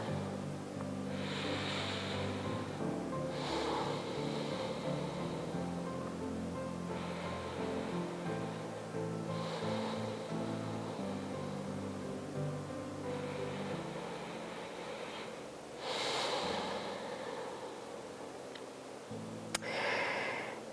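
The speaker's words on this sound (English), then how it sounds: "Let's give it 2 or 3 more deep breaths." Slow, deep breaths during a yoga stretch, soft airy inhales and exhales recurring every few seconds over a quiet background of music, close and gentle, with no talking.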